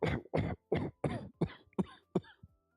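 A string of about seven dry coughs in quick succession, close and fairly quiet, ending with a softer throat-clearing sound.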